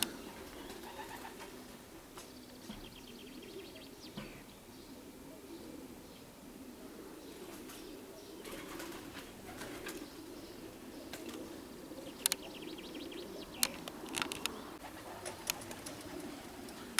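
Soft pigeon coos and faint wing flutters from a flock settling nearby, with occasional sharper clatters of birds landing over a steady outdoor background.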